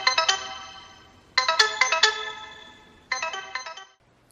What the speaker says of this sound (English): it plays an annoyingly little ringtone, which you need to find the remote to turn it off